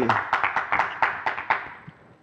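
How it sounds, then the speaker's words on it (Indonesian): A short burst of scattered hand claps from a small talk-show audience, a few crisp claps spaced unevenly before trailing off. "tepuk tangan untuk kedua tamu kita"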